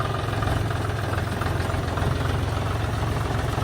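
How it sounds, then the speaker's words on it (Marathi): A tractor reverses to load a small machine onto its trailer. Its diesel engine idles in a steady, low, throbbing drone, close and continuous with no break. "ट्रॅक्टर आता रिवर्स घ्यायला लागले ते"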